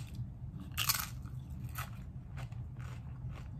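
A person bites and chews while taste-testing an Indian curry dip, giving a sharp crunch near the start and then a few softer crunchy chews. The sounds are close, quiet and set over low background hum.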